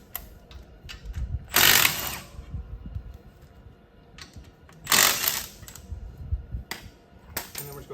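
A 9/16 wrench works the five brake nuts off an RV axle, giving bursts of metallic ratcheting and clicking at close range, two longer loud runs with smaller clinks and handling noises between them.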